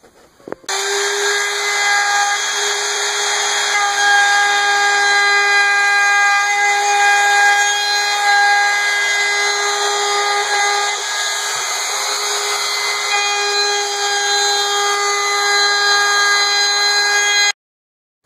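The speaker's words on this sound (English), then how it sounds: "with the same 1/4 inch bit setup, we'll round over the top and bottom edges" A router fitted with a quarter-inch round-over bit cuts along the edges of a wooden cutting board, a loud, steady high-pitched whine that runs continuously after starting, close up and alone.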